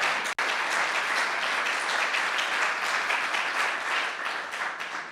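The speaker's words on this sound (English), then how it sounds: "If I could have a round of applause for Jane's Herculean lift on this." An audience at the launch event for a national healthy housing standard gives a full round of applause, dense and sustained for several seconds, easing slightly toward the end, with no talk over it.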